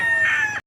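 A rooster at a gamefowl market in Lipa City, Batangas, gives a single loud, close crow that cuts off abruptly.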